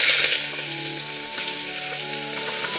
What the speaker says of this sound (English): to that, I'm going to add the onions